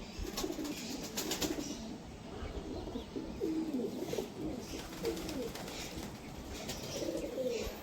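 Close, continuous cooing from a group of pigeons at a Krishnanagar loft, with occasional wing flutters over a steady background.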